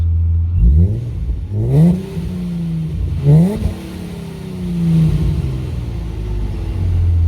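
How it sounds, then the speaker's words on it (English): Supercharged 480 hp Nissan 370Z revved while parked, three sharp blips rising and falling back to a rumbling idle, close and loud with no talk. "Let's give it a rev."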